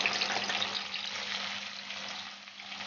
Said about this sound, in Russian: Итак, сковорода у нас тоже разогрелась.